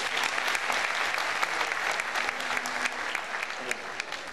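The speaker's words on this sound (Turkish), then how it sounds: "Onun için de bir alkış alıyorum." Audience applause at a heart-themed community choir concert, a dense steady clapping from a sizeable crowd that holds at even loudness for several seconds without pause.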